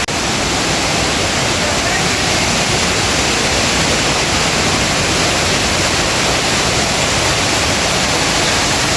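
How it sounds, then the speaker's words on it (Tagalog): Steady roaring rush of Vega Falls in Agusan del Sur, Mindanao, dense and unbroken, filling the whole clip at close range. "Dito lang yan sa Vega Falls ng Agusan del Sur."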